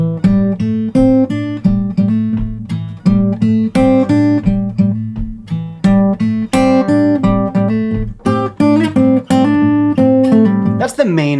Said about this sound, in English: Let's start with the main riff, and it sounds like this.